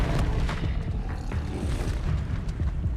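The Expelliarmus spell effect from the Hogwarts Legacy video game is a dense, booming burst of magical impact with rumbling low energy throughout, loud and continuous, with scattered sharper crackles.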